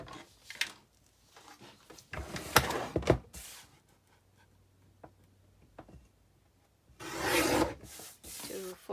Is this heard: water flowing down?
no